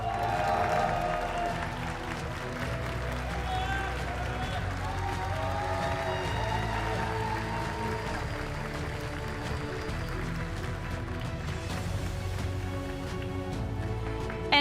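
Sustained applause from a large crowd at the Pokémon North America International Championships finals, loud and continuous clapping with cheering mixed in, filling the whole stretch.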